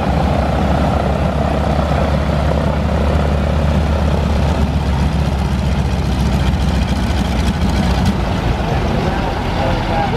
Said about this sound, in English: it makes it look like the propellers aren't even spinning. But they're actually going full speed.